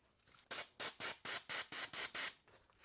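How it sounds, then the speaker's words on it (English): Brake cleaner sprayed onto Toyota 4Runner brake parts in eight sharp, evenly spaced bursts of hissing aerosol, close and clear, with short pauses between each squirt. "And then I'll hit it with a little brake cleaner."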